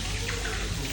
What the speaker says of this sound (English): the gold is giving off its steam